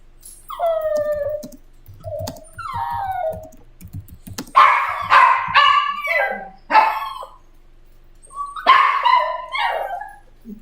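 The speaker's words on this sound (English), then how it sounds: "Okay, enough barking." A dog barks and yips close by in uneven bursts, some single and some in quick runs, with whimpering notes between them and pauses of near silence.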